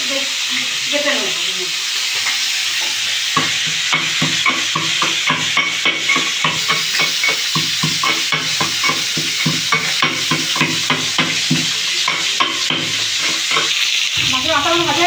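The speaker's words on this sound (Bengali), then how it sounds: "মাছের মাথাগুলো ভাজা হয়ে তুলে নেবো।" Fish heads frying in oil in a pan while being stirred, a loud continuous sizzle with rapid repeated scraping and clattering of the spatula against the pan, close up.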